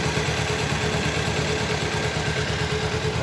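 A Kawasaki Ninja motorcycle engine idles during a service, giving a close, steady, even low rumble that holds at one pace throughout with no voices.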